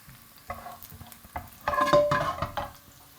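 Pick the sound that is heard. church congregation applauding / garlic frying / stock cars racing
garlic frying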